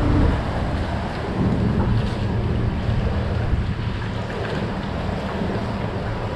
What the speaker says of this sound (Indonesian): Mesinnya yang mantap itu.